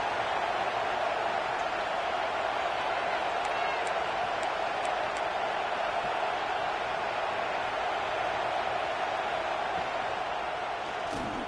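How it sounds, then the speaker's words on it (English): Home crowd at a college football game between Georgia Tech and FSU roaring steadily throughout, a dense continuous wash of cheering and noise with a few brief whistle-like tones rising above it. "And how nice is it to have the home crowd going absolutely bananas?"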